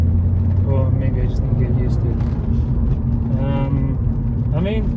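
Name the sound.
BMW E36 M3 engine pulling on test drive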